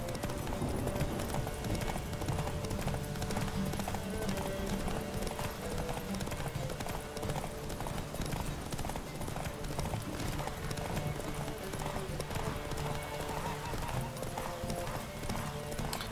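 Horse hooves clip-clopping steadily in The Witcher 3, the mount Roach trotting under a continuous game soundscape, with a whinny mixed in and a voice speaking faintly over the top.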